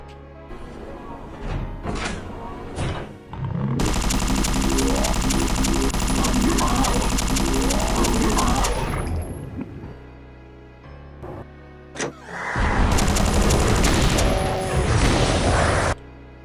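Chaingunner enemies in a Doom mod unleash long, loud, rapid-fire bursts of gunfire, a sustained stretch followed by a pause and a second barrage, with a few clanks and thuds between.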